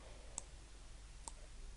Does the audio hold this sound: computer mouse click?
yes